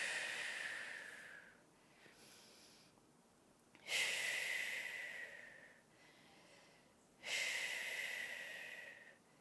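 Slow, deep breaths during a birth-prep workout: three long hissing exhales, each fading gradually, separated by quieter inhales, close and fairly soft with no speech.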